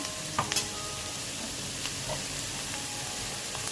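Sliced ivy gourd and onions fry in a pan, a soft continuous sizzle with occasional scraping knocks as the mixture is stirred, steady and close with no speech.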